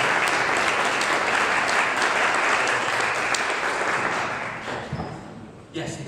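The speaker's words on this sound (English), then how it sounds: "ladies and gentlemen, applause" A conference audience in a hall applauding before a lunch break, loud dense clapping that holds steady and then thins out, with a few scattered claps and sounds near the end.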